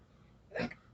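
One sudden, short hiccup jumps out of a quiet room, close and fairly soft.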